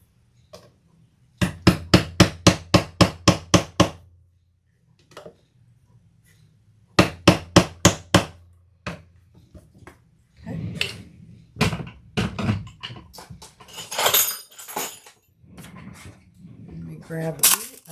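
Metal hammer blows setting a rivet through stacked leather and vinyl layers beneath a D-ring on a crossbody bag, two quick bursts of about eight sharp taps each, then scattered knocks and handling noise.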